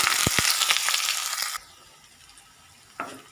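Loud sizzling of chopped shallots frying in hot coconut oil with a few stirring clatters, then the sizzle drops to a quieter hiss before another scrape near the end.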